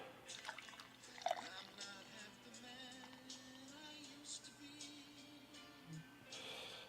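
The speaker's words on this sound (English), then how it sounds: "Give it a pour." Edmund's Oast Sour Cherry Pineapple, an American sour ale, is poured into a glass, giving a soft, steady trickle and gurgle of liquid for several seconds with faint clinks, quiet and close.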